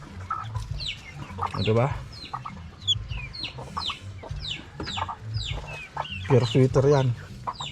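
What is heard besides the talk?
chickens clucking on a mini farm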